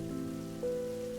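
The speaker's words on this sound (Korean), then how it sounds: "이슬비는 소나기 같은 꽤 굵은 비로 바뀌었다" Heavy rain shower that has grown from drizzle into thick, fat drops, falling steadily around a runner with no one else nearby; a constant close hiss of rain on surfaces with a low tonal hum underneath, no voices.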